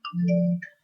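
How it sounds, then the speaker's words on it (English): A phone notification chime: a single short tonal alert with a low sustained tone and bright upper harmonics, lasting under a second, close and clear with no talking. "sorry, that was my phone."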